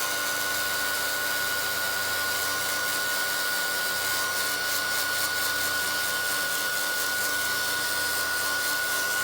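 A handheld dryer drying white gesso on an altered book cover gives a steady, loud, close whooshing blow with a constant motor whine that runs unbroken from start to finish, with no speech.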